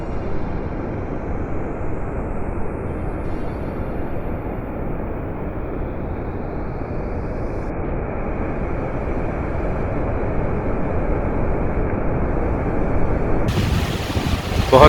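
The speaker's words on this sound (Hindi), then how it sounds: "बहुत तेज़ हवा चल रहा है और बहुत ठंडा है, और पानी का छींटना यहाँ तक आ रहा है।" Strong wind roars steadily and broadband at Jogini Waterfall, blending with rushing water and spray, a dense, continuous noise buffeting the microphone with no break.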